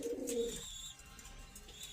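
Soft cooing from pigeons kept in a loft with young squabs, a low throaty coo followed by faint chirps against quiet ambient background.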